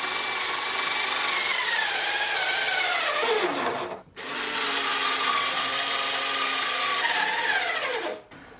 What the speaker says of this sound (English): I've got my tree braced while I come around to the back and put my screws in